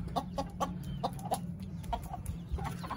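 A rooster clucks in short, repeated bursts close by, over a steady low background hum.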